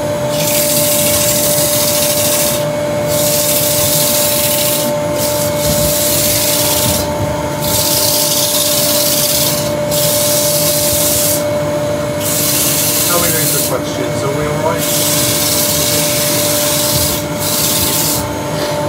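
A wooden raised bowl spinning on a lathe is sanded with 100 grit paper, a loud continuous abrasive rasp over the motor's steady hum, with rhythmic surges as the paper moves across the surface.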